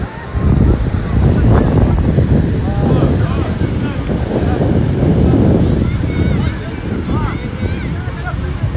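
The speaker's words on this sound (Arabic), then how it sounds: "البحر هايج بزاف." Rough, heavy sea surf rolls and crashes continuously, with strong wind buffeting the microphone, loud and close throughout, and a person's voice heard faintly among the roar.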